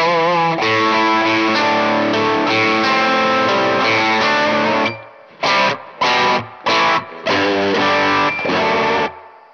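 An electric guitar plays a rock tone through a BOSS SD-1 overdrive into a TC Electronic Combo Deluxe 65 amp, with sustained distorted chords followed by short, choppy stabs separated by silences.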